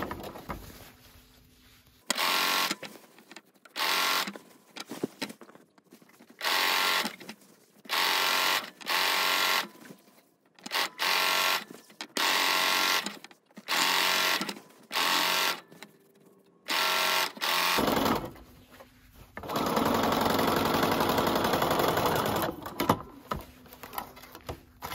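A sewing machine stitches along the hem edge of a silk scarf in rapid bursts, each run a few seconds long with short pauses between, ending in one longer continuous run, close and clear.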